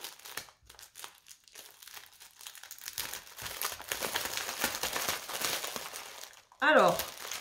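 Plastic packaging of a cross-stitch parcel crinkles and crackles up close in irregular bursts as it is torn open, growing louder, with a sharp tearing rip near the end; a voice speaks briefly in French at moments.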